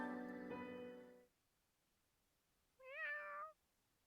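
A cat in Fire Emblem: Three Houses meows twice: a longer, louder call first, then after a quiet gap a shorter rising-falling meow, both clear and isolated.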